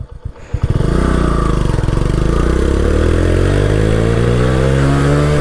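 A Vikrant V12 motorcycle pulls away in first gear, its engine climbing from a low rumble into a steady, loud, rising rev. The exhaust is heard close and continuous, with no talk.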